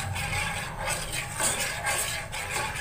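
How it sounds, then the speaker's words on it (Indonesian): A spoon stirs a milk pudding mixture with fruity acid in a pot, giving a steady, close scraping and clinking that keeps going the whole time, with no talk. "Kita aduk lagi."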